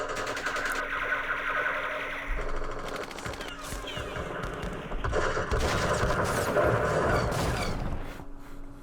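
Artillery and weapons fire in the Vietnam-era wargame Campaign Series Vietnam, Battle of Mao Khe: sustained rattling bursts of shots layered over game sound effects, rolling on for several seconds at moderate volume.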